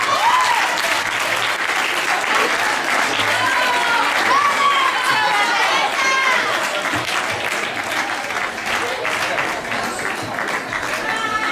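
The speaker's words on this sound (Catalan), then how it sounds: "un fort aplaudiment a tothom i seguim" A crowd at an award ceremony for student writing prizes applauds steadily for over ten seconds, dense clapping filling the room with a few cheers and voices mixed in.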